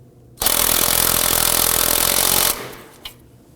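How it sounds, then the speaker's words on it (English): A power tool drives a socket onto a steering knuckle nut on a 2005-2009 Subaru Legacy, giving one loud, close two-second whir that stops abruptly, followed by a faint click. "Using a 19mm socket, you want to go ahead and snug this down."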